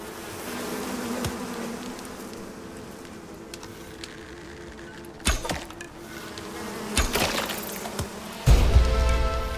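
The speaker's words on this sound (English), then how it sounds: "There's bees in here, so there's that" Bees buzzing around a nest in the video game Icarus, a steady close insect drone with several sharp impact hits layered over it and no talk.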